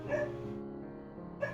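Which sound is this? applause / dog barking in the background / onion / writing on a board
dog barking in the background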